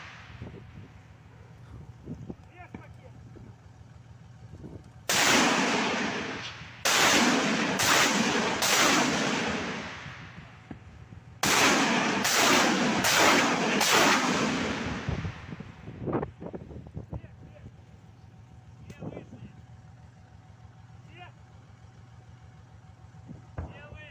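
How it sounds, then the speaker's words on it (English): A heavily improvised MLRS rocket launcher firing in a war zone, with loud roaring launch blasts, one long burst then a quick volley of four more, each trailing off before distant rumbles and a quieter, windy background. "We now see that they're done firing off this heavily improvised MLRS."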